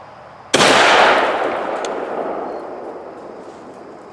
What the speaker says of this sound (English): So I'm just gonna sit it right here and let y'all watch me shoot it.